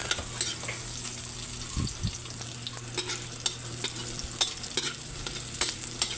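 Garlic and onion sizzle steadily in a pan for chopsuey while being stirred, with a continuous frying hiss and scattered scraping clicks of the utensil, fairly close and without talk.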